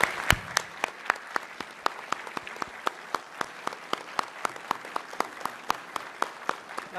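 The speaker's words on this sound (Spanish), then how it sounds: "les pido un gran aplauso al doctor Alfredo Jalife" Clapping in the Chamber of Deputies hall after a keynote conference lecture: sparse, evenly spaced claps in a steady rhythm, fairly quiet and thin, as if from only a few people.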